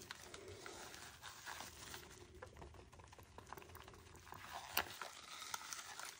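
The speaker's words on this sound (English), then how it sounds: "Give it a good mix with the powder." Red shimmer powder is stirred into a paste, giving soft, close, wet squelching and crinkling strokes. The sound stays quiet and steady, with one sharp click near the end.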